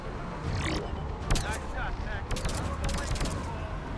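Rapid automatic gunfire in the sci-fi shooter Mass Effect 3: fast, crackling bursts in quick succession, close and loud, with voices over the shooting.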